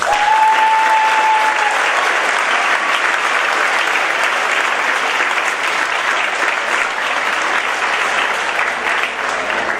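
Sustained applause from an audience at a school district opening ceremony, steady and full for the whole stretch, with a brief tonal whine near the start.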